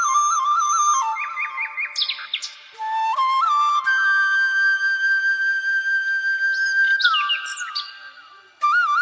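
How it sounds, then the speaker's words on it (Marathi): Birds chirping at dawn: loud, close, clear whistled calls and rising chirps that come one after another and overlap, with one long sustained whistle in the middle and no other sound. "पक्ष्यांचा चिवचिवाट ऐकायला येत आहे."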